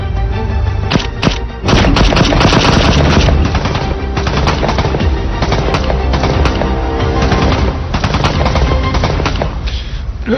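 Loud, sustained gunfire rattles in rapid automatic bursts with sharp single cracks and thuds, continuous and close for the whole stretch.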